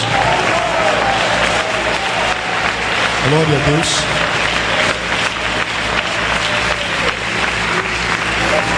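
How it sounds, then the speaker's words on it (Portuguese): At a Thursday church campaign service, a congregation claps hands for Jesus in a loud, continuous rattle of many palms, with a voice speaking briefly over the clapping partway through. "pode bater as palmas para Jesus"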